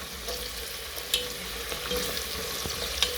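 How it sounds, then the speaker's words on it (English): Onions, garlic and bay leaves frying in a pot for beef curry while being stirred, a steady close sizzle broken by a few sharp scrapes and clicks of the spoon against the pan. "Now I'm mixing these to allow the onions to get a good cook, not burn, but just to get a nice translucent color."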